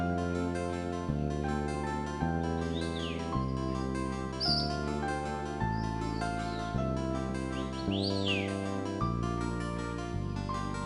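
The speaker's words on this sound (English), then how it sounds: "hear the birds singing" Birds chirp and tweet in a natural broadleaf forest along a walking trail, short high calls scattered over steady, loud chordal music.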